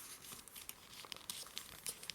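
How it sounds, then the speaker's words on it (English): Origami paper being folded and creased by hand, faint crinkling rustles with a few sharper crisp snaps, close and quiet with no speech. "So we'll take this edge, fold it up to the midline there."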